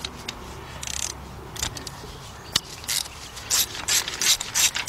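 A ratchet tightening a spark plug on a 2005 Nissan Pathfinder 4.0 through a socket and 6-inch extension: rapid clicking pawl strokes, close and fairly loud, speeding into short bursts toward the end.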